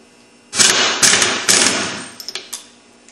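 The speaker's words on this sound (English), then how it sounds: "Okay, impact gun." An impact gun works on motor parts while a crankcase is split, firing three loud, long rattling bursts followed by several short rapid taps, close and alone.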